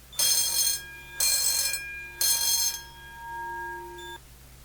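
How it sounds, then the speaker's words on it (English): A loud fire alarm bell rings in three bursts of about half a second each, separated by short pauses, followed by a sustained electronic tone. "today we're going to pull the fire alarm"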